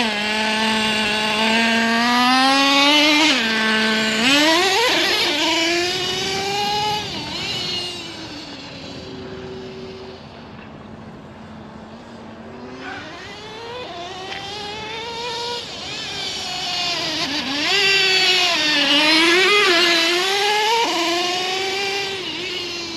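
A nitro Traxxas T-Maxx RC truck's small engine buzzes and revs repeatedly, its high whine sweeping up and down in pitch, easing to a quieter idle midway before revving hard again.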